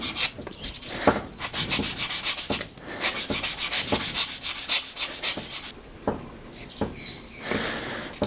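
A new chisel's flat rubs back and forth on a sharpening stone in steady, close scraping strokes, a rhythmic gritty swish that repeats quickly, then slows into a few separate passes near the end.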